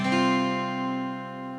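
A single strummed acoustic guitar chord from a guitar lesson rings out close and clear, then decays slowly with no talking.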